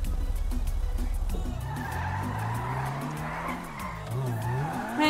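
A buggy car skids, its tires squealing in sliding, wavering tones over a rough engine rumble that stutters at first, loud and close for several seconds with no talk.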